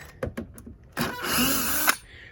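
A power drill backs screws out of the plywood front cabover cap of an RV during a roof rebuild: a few short clicks and taps, then one sustained whirring burst of about a second, close and fairly loud.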